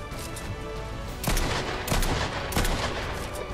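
Monarch pistol fire in Fortnite, several sharp close shots in quick bursts over a dense game soundscape with rapid crackling gunfire.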